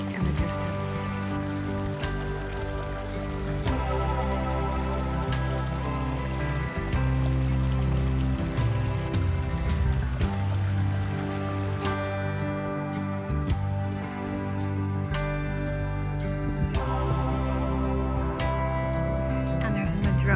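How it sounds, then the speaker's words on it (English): Distant waterfalls and creeks in a quiet forest on a Humboldt County ranch, a steady rushing water wash running beneath a voice that talks through most of the stretch. "what you can hear are all the waterfalls and the creeks in the distance"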